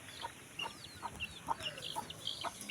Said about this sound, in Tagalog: ito yung mga pabo ko